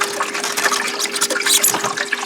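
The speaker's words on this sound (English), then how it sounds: "And the water's running outside." Water rushes steadily from the hot water tank lines of a 2016 Eagle HT fifth-wheel RV being dewinterized, a loud, continuous, splashing flow with no talk.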